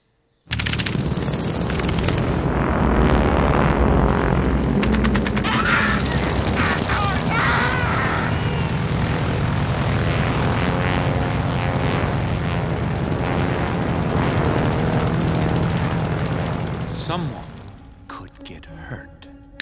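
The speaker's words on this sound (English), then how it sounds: "for the flying squadron of grasshoppers, we used a flying squadron of airplanes." A film effect for a flying squadron of grasshoppers blends Stearman biplane engines with a swarm of bees into a loud, dense, roaring buzz with sharp rattling bursts, sustained for about seventeen seconds before cutting off abruptly.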